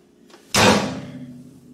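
A microwave oven door is pulled open with a sharp click and latch thump, followed by a brief fading rattle, close and loud.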